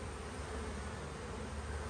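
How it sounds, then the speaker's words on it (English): A swarm of bees buzzes in a dense, continuous drone, close and steady throughout, with no voices. "get the bees moving off my arm"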